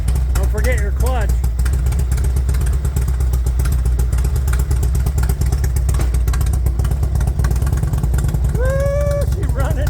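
A motorcycle engine runs steadily after being put in gear, a loud close low rumble throughout, with a couple of brief voices and a rising whine near the end.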